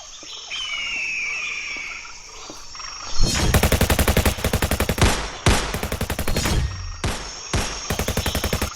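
Rapid bursts of automatic gunfire in a jungle, loud and close, fired in several strings of quick shots over steady insect and frog chorus and birdsong.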